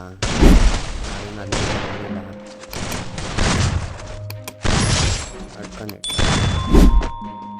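Bursts of loud gunfire in a shooter video game come in several sharp SMG volleys with brief pauses between them, punchy and close, mixed with thuds and synthetic game sounds.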